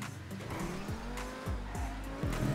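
Race cars squeal their tires and skid through corners in a GTA 5 street race, loud and close, with engine drone under repeated screeching bursts and no talking.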